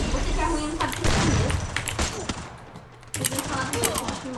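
Rapid bursts of gunfire from a shooting video game, with dense clustered shots and thuds throughout and a sharp burst near the end, mixed with excited voices talking over the action.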